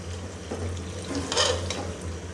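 Haleem mixture of lentils and meat with cumin, nutmeg and mace being roasted and stirred in a pot, a soft sizzle with scraping spoon strokes and a brief louder burst, over a low steady hum.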